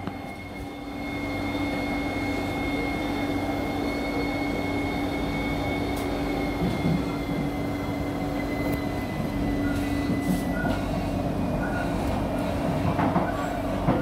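An SMRT C151B metro train in Singapore rolls steadily along the track toward Yishun, a continuous low rumble with a faint high whine and occasional squeaks and clatter, heard from inside.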